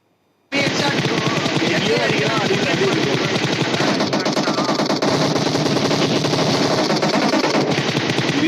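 Continuous rapid automatic gunfire from a shooting video game rattles loudly for about eight seconds after a quiet start, with dense overlapping shots and no break.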